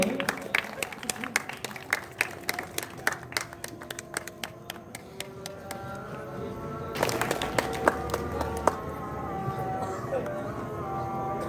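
Applause from an audience at a school celebration for International Mother Language Day, a burst of many hands clapping that thins out, then swells again loudly near the end.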